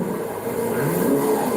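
A Lamborghini Aventador with a Power Ranger wrap revs its engine up close, a loud, steady, rough roar that swells slightly toward the end.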